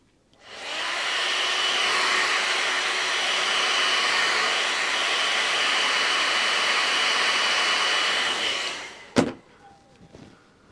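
A hair dryer blows steadily on a wet watercolor painting, a loud, even whoosh that starts abruptly, holds for about eight seconds, then cuts off, followed by a sharp click and a few faint handling noises.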